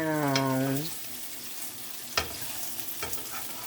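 Onions and food fry in a pan with a steady soft sizzle underneath, marked by a couple of sharp clinks of a utensil against the pan. A short tonal sound comes in at the start.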